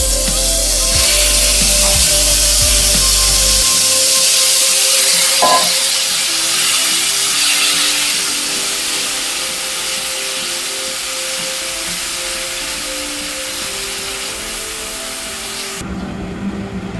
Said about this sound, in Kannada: ಇದನ್ನ ನಾವು ಮ್ಯಾರಿನೇಟೆಡ್ ಪನ್ನೀರ್ನ ಹಾಕೊಂಡು ಫ್ರೈ ಮಾಡ್ತೀವಿ.